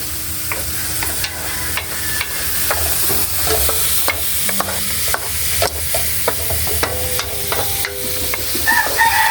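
Kangkong and squid being stirred in a frying pan, with steady sizzling under repeated scraping and clattering strokes of a utensil, while a rooster crows faintly in the background.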